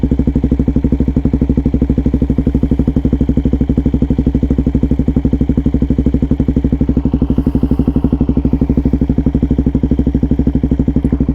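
A Suzuki DRZ400 single-cylinder motorcycle with an aftermarket exhaust idles up close, giving a loud, steady, rapid thumping beat that holds even throughout with no talk.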